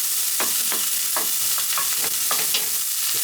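Chopped, diced onion sizzles steadily in a hot pan for a chicken stir fry, a dense constant hiss with several soft stirring scrapes spaced through it, close and without voices.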